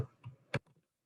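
A few soft keystrokes on a computer keyboard while entering petty cash into accounting software, a quick cluster of light clicks with one sharper tap, then quiet.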